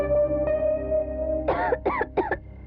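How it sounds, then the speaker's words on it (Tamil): A woman coughs three times in quick succession, short harsh bursts close by over a sustained musical drone. "பாத்தியா இருமுது."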